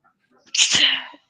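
A single sharp sneeze, close and loud, bursting out of near silence and trailing off quickly.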